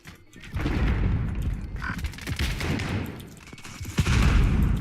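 Gunfire in a Call of Duty Warzone firefight: a rapid string of loud, close shots runs through most of the stretch, with a sharp punchy crack near the end.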